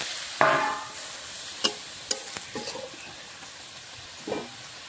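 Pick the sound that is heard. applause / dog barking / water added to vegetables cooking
water added to vegetables cooking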